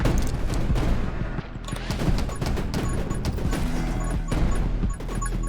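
A grenade launcher fires repeatedly in the 20 Minutes Till Dawn video game, with dense, rapid explosive bursts and crashes layered over continuous game music and effects, loud and unbroken across the clip.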